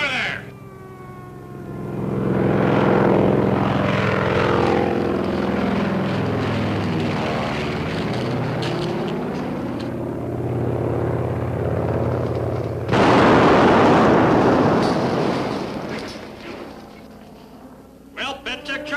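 An old biplane drones past overhead at a wartime camp, its propeller engine swelling and sweeping in pitch as it passes, followed by a burst of loud rough noise like a small bomb blast; voices talk beneath.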